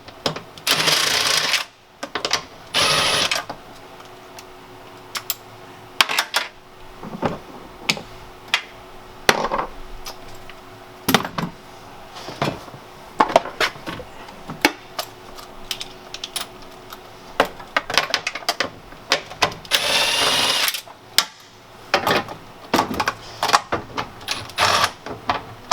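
Tools working 10mm nuts loose on a panel in a 144 Sprinter van, with irregular sharp metallic clicks and ratchet-like bursts, close and fairly loud, scattered through the clip and separated by quieter gaps.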